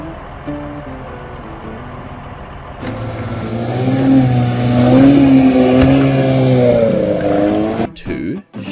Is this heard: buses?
yes